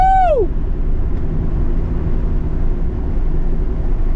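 A BMW 335i with the N54 engine running antilag, a sharp falling whine at the start followed by a steady heavy low rumble at close range and high volume.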